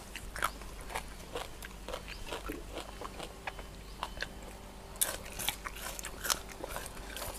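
Som tam, spicy papaya salad, is chewed close to the mic, with repeated wet crunches and biting sounds in an irregular rhythm and quiet background in between.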